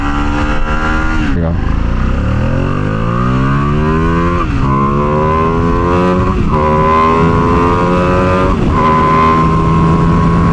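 A red Ducati Panigale V2 sport motorcycle revs hard at full throttle, engine pitch climbing through several gear shifts, loud and close, with a short spoken phrase at the start.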